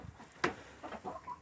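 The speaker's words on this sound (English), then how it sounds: "Look at this chicken." Chickens in a backyard coop let out a few soft, close clucks, one sharper burst and then short murmuring calls, all fairly quiet with no speech over them.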